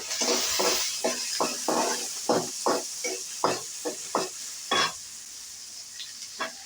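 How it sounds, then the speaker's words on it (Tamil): Crushed garlic, whole garlic cloves and onions sautéing in a pan, a bright continuous sizzle punctuated by repeated scraping stir strokes that grow sparser toward the end. "நசுக்கின பூண்டு போட்டு முழு பூண்டும் வெங்காயம் போட்டு இப்போ வதக்கணும்"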